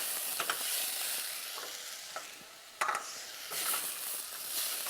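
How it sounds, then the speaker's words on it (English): Rice and ginger frying in a pan as they are stirred: a steady soft sizzle runs underneath, broken by intermittent scraping and clinking stirs, one sharper knock near the middle, recorded fairly quietly with no talking. "Keep stirring."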